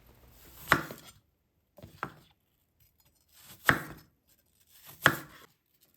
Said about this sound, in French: Épluchez 2 pommes, coupez en quartiers puis en tranches.